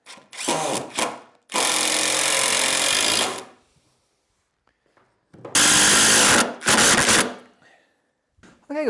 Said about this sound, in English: So let's get a screw in that.